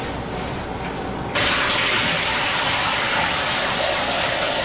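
Toilet tank refilling after its water supply hose has been reconnected during a DIY repair, a steady hiss and rush of water that jumps louder a little over a second in and then flows on evenly, close by, with no talking.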